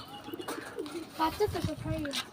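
Soft pigeon cooing in short repeated bursts, fairly close, with a faint voice murmuring in the background.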